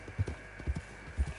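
Horse hooves clip-clop while riding on a hunt, three paired thuds at an even walking rhythm, moderately close over a steady low hum.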